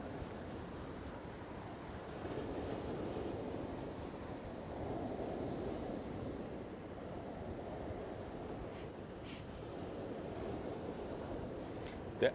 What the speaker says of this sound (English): Got all the waves hitting the shore here.